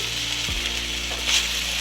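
Okra being stirred into a sizzling Indian tempering in a home kitchen pan: a steady close frying hiss with a brief scrape of the spoon, no talking.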